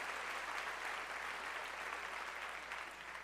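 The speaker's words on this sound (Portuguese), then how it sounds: "levanta as tuas duas mãos lá no alto e começa a aplaudir o Senhor" A church congregation applauds during a celebration service, a dense, steady wash of clapping that holds evenly throughout, heard at a slight distance with no voices above it.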